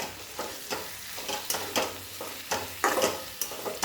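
Chikki bhopla (pumpkin) vegetable being stirred in a frying pan, a spoon scraping through the sizzling pieces in a steady rhythm of strokes, close and moderately loud over a constant fry hiss.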